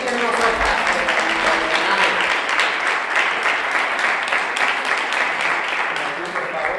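An audience at a Spanish-language talk applauds a volunteer with steady, dense clapping that fills the room for several seconds, with a voice briefly over the start.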